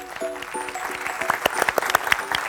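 Scattered hands begin clapping, building into lively applause after a brief tonal sound at the start.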